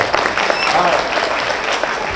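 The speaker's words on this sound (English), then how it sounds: "So clap it up for that one more time." Loud audience clapping at a live stage event, a dense, continuous burst of many hands with crowd noise layered in for the whole short stretch.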